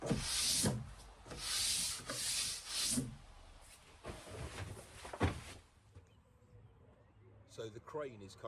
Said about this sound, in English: I'm now going to sand down this part here using a mouse sander